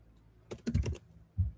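Quick bursts of keystrokes on a computer keyboard typing into a chat, a few close, crisp clicks in a brief cluster followed by a short pause and two more taps.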